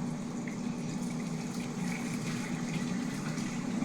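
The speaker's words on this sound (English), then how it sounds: "So I'm gonna pour out the extra water." Excess water being poured off a pot of boiled potatoes, a steady close-up splashing gush that runs evenly and continuously throughout with no talking.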